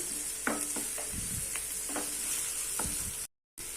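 Tomatoes with coriander powder and salt sautéing in a pan for white kurma, a continuous gentle sizzle with a few light spatula scrapes and taps, briefly cutting out near the end.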